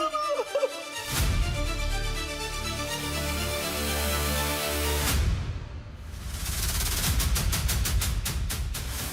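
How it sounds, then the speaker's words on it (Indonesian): Loud bursts of gunfire crack through a dense, noisy scene, with a sharp blast near the start and rapid repeated shots toward the end. "itu suara tembakan kan"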